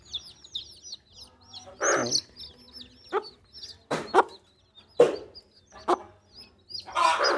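A hen with nine newly hatched chicks, the chicks giving a stream of high, rapid peeping close by while the hen adds a few low clucks and rustles in between.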